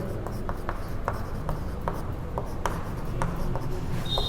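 Pen or chalk writing out a chemistry note on tertiary alcohols, a series of short scratchy strokes in an irregular rhythm, close and fairly quiet over a low room hum.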